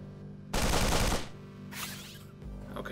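Assault rifle fire in The Pit video game: a loud sustained burst of rapid shots lasting about half a second, followed by a softer second burst and a faint trailing shot.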